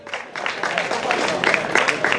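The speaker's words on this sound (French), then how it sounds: "On mérite des applaudissements, s'il vous plaît." Applause from a wedding crowd after the cake is presented, steady dense clapping at moderate loudness throughout, with some voices mixed in.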